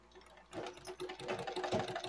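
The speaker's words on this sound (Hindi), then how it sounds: "हमारा धागा जो है बाइबिंग में चंद मिनटों में ही भरने लगा है" A sewing machine winds thread onto a bobbin with a steady mechanical whir. The hum starts up quickly and keeps running close by, with no talking.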